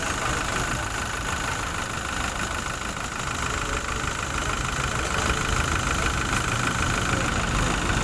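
A general-overhauled Toyota Innova engine idles steadily up close, a smooth continuous hum with a faint rhythmic ticking, running alone without talk.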